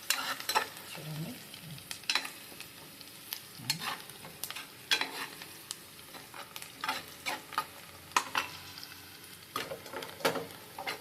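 Ginger paste frying with softened onions in a pan, sizzling under repeated scraping stirs of a spoon, giving a quiet, irregular rhythm of clatter and hiss with no talk.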